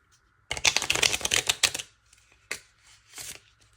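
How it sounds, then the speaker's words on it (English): Tarot cards shuffled by hand in a dense, crackling riffle of about a second and a half, followed by a few lighter separate taps and flicks, close and clear with no talking. "I didn't like that shuffle, honestly."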